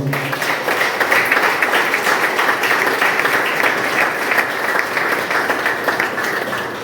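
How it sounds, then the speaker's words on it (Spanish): A church congregation claps in praise during a sermon, producing a steady wash of applause that holds at an even level from start to finish. "Dile un aplauso al Señor."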